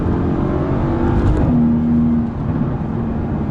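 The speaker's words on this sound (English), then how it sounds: "Make a twin turbo engine sound this good" A deep twin-turbo V8 engine of a Mercedes-AMG GT S roars steadily, its tone climbing briefly as it revs before settling into a lower, rumbling hum.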